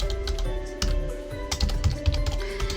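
Rapid typing on a computer keyboard, a steady run of close, crisp key clicks with a few louder strokes, heard alone with no voices.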